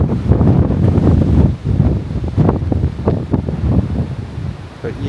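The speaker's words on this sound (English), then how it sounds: "the wind is certainly picking up a little bit now" Strong gusting wind on Dartmoor during Storm Darragh, loud buffeting across the microphone in uneven surges, with no voices over it.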